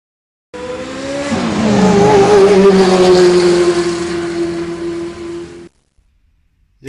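Hot Wheels toy cars, including a Jaguar XJ220, race down a track with a whirring, rolling roar that swells quickly, holds for several seconds with a brief squeal-like edge, then cuts off abruptly into silence.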